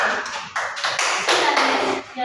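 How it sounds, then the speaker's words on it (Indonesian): A gathering clapping for a father, a short burst of scattered claps at moderate distance lasting a couple of seconds. "Kita tepuk tangan untuk ayah dan juga dia hebat."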